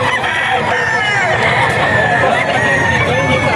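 Young roosters crow amid a busy pet market, with crowing and clucking mixed into steady crowd chatter and background hubbub.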